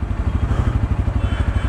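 A Bajaj Pulsar N160 motorcycle with USD forks idles just after starting, a steady loud low thumping engine pulse with even rhythm close by, no talking.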